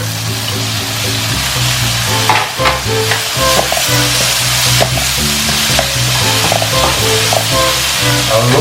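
Cooked mixed vegetables are stirred into a hot frying pan: loud, continuous sizzling up close with repeated spatula scrapes and knocks over a low steady hum, and no one speaking.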